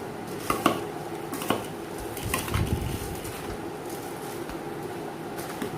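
Puffed rice is stirred with a spoon or ladle in a bowl for an evening snack, making scattered light scraping and tapping clicks with a few sharper knocks against the dish over a soft background.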